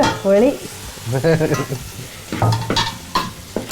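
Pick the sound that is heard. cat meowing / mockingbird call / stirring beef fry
stirring beef fry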